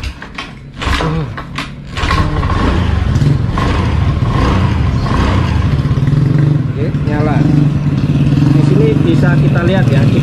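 A Honda BeAT scooter with a total electrical failure starts with a kick and keeps idling loudly close by, with a steady rumbling putter and a person talking over it.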